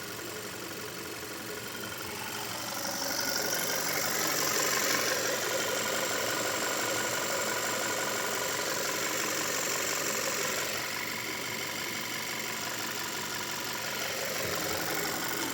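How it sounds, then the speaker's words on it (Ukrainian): A 2018 Audi Q3 2.0 TFSI petrol engine of 200 hp, S line with Tiptronic Aisin gearbox, idles steadily with the bonnet open, giving a smooth, even hum with a faint ticking texture and no talk. "Двигунчик працює ідеально рівно"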